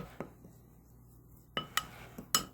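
A spoon clinks and scrapes against a bowl while stirring a thick chocolate and espresso mixture, a few sharp, separate taps spaced out over quiet, close and fairly soft.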